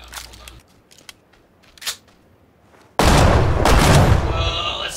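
Pistol shots in a PUBG-style shooter: a few faint, sharp cracks and clicks, then one loud, close sidearm blast whose ringing tail fills the rest.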